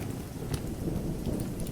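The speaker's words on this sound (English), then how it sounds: "There's a very slight drip of rain near the stairs to the south" Steady heavy rain hisses under low rolling thunder, a dense, continuous storm ambience with no voices.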